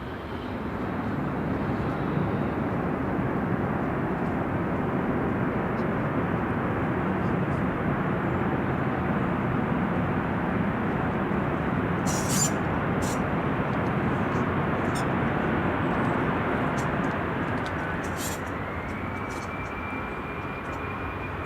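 Airplane landing at Manchester Airport, a steady broad roar of engines and rushing air sustained for the whole stretch, with faint voices and a few clicks over it.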